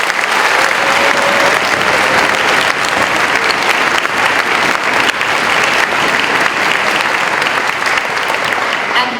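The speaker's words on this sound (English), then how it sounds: "can we give them a huge round of applause for the amazing work?" Applause from the audience of a middle school all-county orchestra concert fills the hall, a dense, loud, sustained clapping crowd throughout with a few faint voices mixed in.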